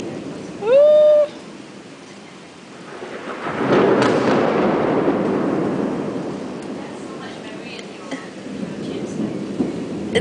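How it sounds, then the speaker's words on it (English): Thunder rolls through a Singapore thunderstorm, a broad rumbling swell that builds and lingers for several seconds amid rain hiss, following a short voiced whoop from a person nearby. "It's madness thunder here."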